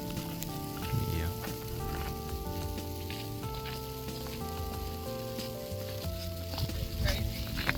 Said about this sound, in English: It's like little ice balls coming down.